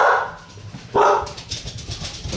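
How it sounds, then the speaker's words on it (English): Dogs barking inside a house, two loud bursts close by with quieter noisy rustling between and after them. "My dogs must have found a rabbit in the house."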